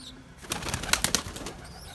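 Breeding pigeons coo inside their loft, a few soft throaty calls rising close by. A faint flutter of wings sounds briefly in the middle.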